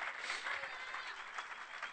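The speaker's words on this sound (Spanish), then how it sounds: "Dale un aplauso de alabanza al Señor" Church congregation clapping in praise during an evangelical service, a dense wash of applause that sounds faint and distant and keeps going steadily for the whole two seconds.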